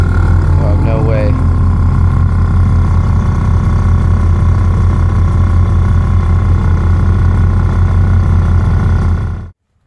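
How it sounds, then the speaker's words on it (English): An air ride compressor hums steadily on an old 1979 Ford F150 with bagged suspension that sat for years, a constant low droning run under a brief voice, cutting off abruptly near the end. "Hear the compressor."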